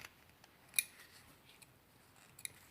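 Scissors snipping small loose threads after sewing a bias binding on a swimsuit, one crisp close snip near the start and a fainter one near the end, otherwise quiet.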